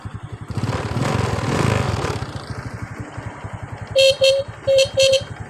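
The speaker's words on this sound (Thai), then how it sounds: "แตรเริ่มดังแล้ว" Horn of a Honda Wave 125 R motorcycle with a weak battery, sounding four short, loud beeps in two pairs over the steady putter of its idling engine, which revs briefly beforehand.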